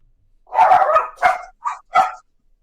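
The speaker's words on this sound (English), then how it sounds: "That was Franklin's dogs." Franklin's dogs bark four times in quick succession, a burst of two close barks followed by two shorter yips, fairly near and clear against an otherwise quiet room.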